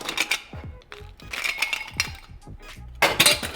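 Ice cubes clink and rattle against a glass as an old fashioned whisky cocktail is stirred and strained over ice, with several bright separate clinks and a louder clatter at the end, close and fairly quiet.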